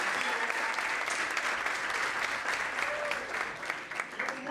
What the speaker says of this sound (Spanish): Un fuerte aplauso también para el moderador de esta charla